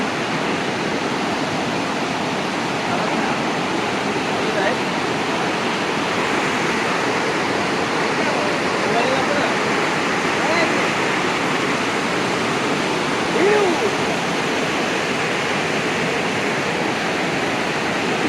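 A fast stream current on a hill route near Thanchi in Bandarban rushes in a loud, unbroken roar for the whole stretch, close and constant, with no clear talk over it.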